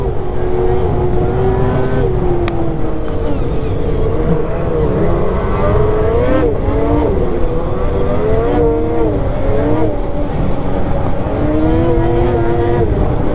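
Polaris Assault Boost snowmobile riding at high speed, its engine a loud, continuous high-pitched drone that rises and falls with throttle changes, close up and steady throughout.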